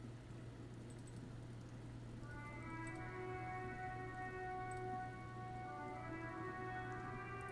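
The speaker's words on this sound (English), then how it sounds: "It's raining again." Steady rain hiss in the video game Disco Elysium fills the scene with a low constant hum underneath, while sustained tonal notes rise in partway through, like ambient game music.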